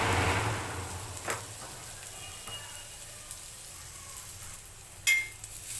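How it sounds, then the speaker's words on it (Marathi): Grated coconut roasting in a little oil in a pan gives a steady, soft sizzle and frying hiss throughout, with a few brief stirring scrapes. "तर मी याच्यातच खोबरं भाजून घेते."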